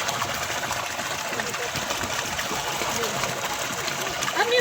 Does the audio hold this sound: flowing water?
yes